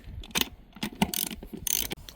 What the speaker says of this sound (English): then we'll put the torque wrench on it and get to about 40